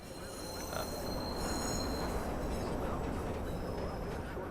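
Steady rumble and rolling wheel noise of a train in the video game Watch Dogs, with faint squealing tones on top, continuous and fairly close for a few seconds.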